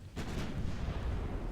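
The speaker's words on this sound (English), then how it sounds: "I'm using also 9-inch main cannons" A 9-inch naval main cannon fires in the naval battle game Ultimate Admiral: Dreadnoughts: one sharp, heavy blast that rolls into a long, low rumbling boom, loud and with no voices over it.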